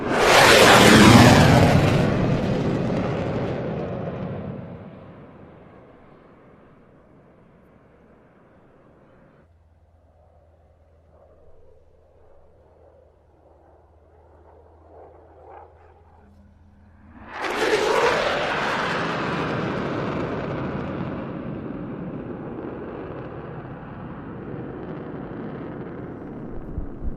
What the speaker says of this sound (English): Here's a high-speed pass.